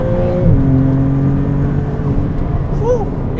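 A car's 90-degree V6 engine hums and revs, its pitch sliding down then holding steady, with a brief rise near the end; loud and close.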